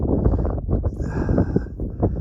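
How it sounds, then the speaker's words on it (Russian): Strong wind gusts roar and buffet the microphone in loud, uneven low rumbles on a snowy riverbank ski trail in April. "Сегодня очень сильный ветер."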